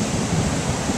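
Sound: ocean waves on a beach

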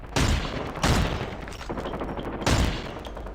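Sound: gunfire in a video game shooter

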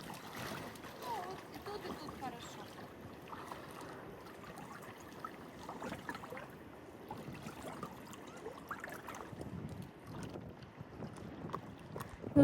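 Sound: wind blowing into microphone

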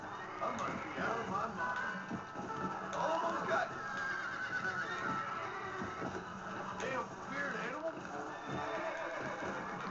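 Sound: horse neighing in Red Dead Redemption video game

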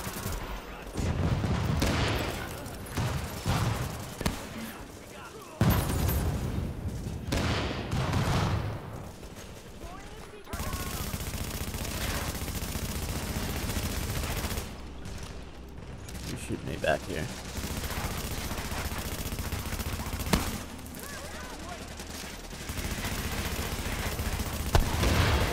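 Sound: gunfire with heavy recoil in video game The Division

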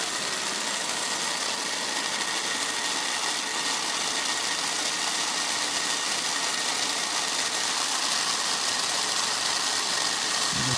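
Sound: Marx model train engines running on track

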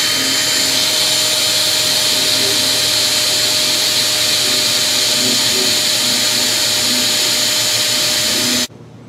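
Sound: drilling wood with a drill bit

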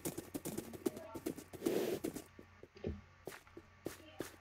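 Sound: horse hooves clip-clopping in a video game

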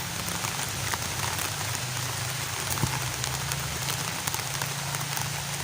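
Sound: rain falling on plants in a field

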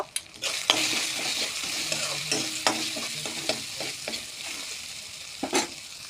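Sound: stirring spices frying in oil with potato and fish

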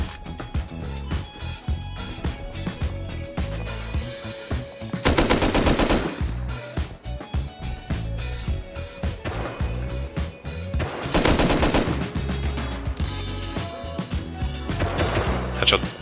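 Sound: gunfire in the video game Rust

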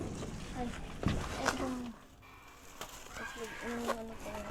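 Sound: chicken clucking

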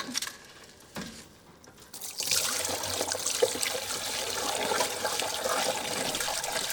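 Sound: water running from a turned-on water supply

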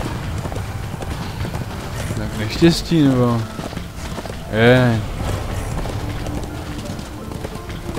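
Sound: horse hooves clip-clopping in Darksiders 2 video game

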